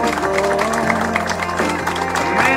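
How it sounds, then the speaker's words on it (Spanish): A gathered crowd applauds at a memorial event, a steady wash of clapping mixed with voices and a sustained musical tone beneath. "el aplauso, gracias."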